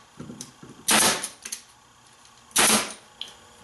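A staple gun drives staples through webbing on the front rail of an 1870s Victorian chair. Two loud, sharp snaps sound about two seconds apart, with lighter taps and handling clicks between them, up close.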